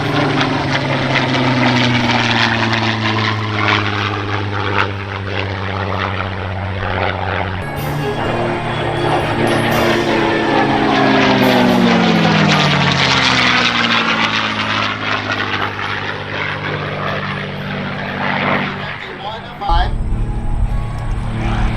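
A Spitfire propeller fighter flies past at an airshow in London, a loud throaty engine roar that rises and falls in pitch as it passes, with an announcer talking over it throughout.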